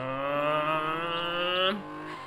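Mercedes rally car engine in the arcade racing game 1000 Miles Rally, a steady harmonic drone that climbs gradually in pitch, then drops sharply near the end as if shifting or lifting off, heard alone without talk.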